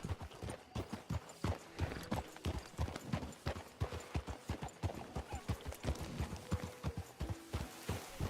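Horses' hooves clip-clop steadily across the whole stretch, a dense run of close, overlapping hoof strikes with a faint whinny possible and no clear talk.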